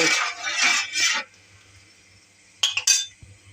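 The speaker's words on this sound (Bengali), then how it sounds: "এখন সব উপকরণ দিয়ে একটু নাড়া দেব" A spoon stirs chicken corn soup ingredients in a pot (chicken bones and meat, ginger-garlic paste and salt), giving a clinking, scraping burst, then a pause, then two short metallic clinks close by.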